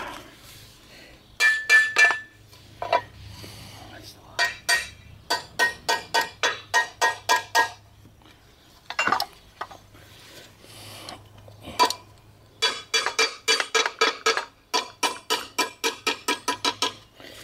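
A tool taps again and again on the rusted shaft of a push lawn mower, working a seal loose, sounding as crisp, metallic clinks in rapid bursts separated by short pauses.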